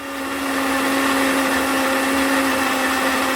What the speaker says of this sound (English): So everything is in my blender and I'm just going to give that a quick